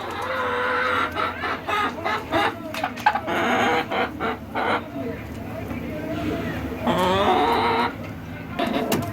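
A broody hen clucks close by in short, repeated throaty bursts, with someone talking over and between the clucks.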